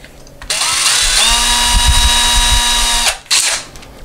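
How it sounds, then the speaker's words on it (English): A power drill with a very small bit spins up loudly into a wall, a high steady whine for about two and a half seconds that then stops, followed by a brief second burst. "We take our very small drill bit, put it in our drill"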